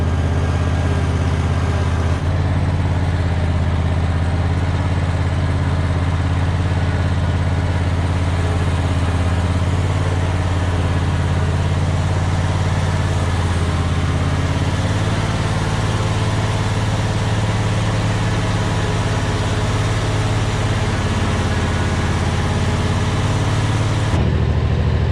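A tractor engine drives backwards pulling a sprayer into a warehouse, its steady low rumble running loud and close throughout, with the pitch holding even and no voices over it.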